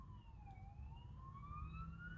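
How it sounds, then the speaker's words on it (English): Emergency vehicle siren wailing outside, a steady rising and falling tone heard continuously at moderate distance with no talk over it. "Sorry for the sirens."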